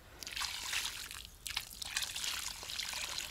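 Water pours and trickles into the soil of a potted decorative pine, a soft, fairly close splashing flow with brief sloshes and drips that continues for several seconds.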